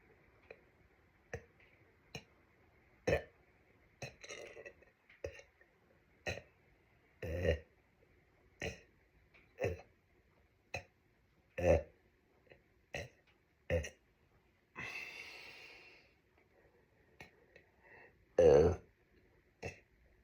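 A person burps over and over, short throaty belches at irregular intervals, some louder and some softer, with a longer rasping sound partway through.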